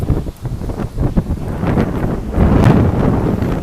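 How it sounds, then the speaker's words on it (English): Strong gusty wind in a back yard garden, loud rumbling buffeting against the microphone with surging gusts and no voices. "Oh, quite windy."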